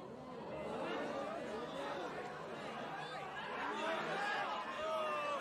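Restless crowd chattering in an anime sumo arena, a dense, steady murmur of many overlapping voices filling the space, with some louder shouts rising near the end.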